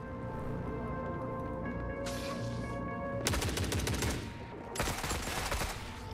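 Shotgun blasts and heavy gunfire in the video game The Forever Winter, loud bursts of rapid shots breaking out over a steady background drone, with a brief lull between two intense volleys.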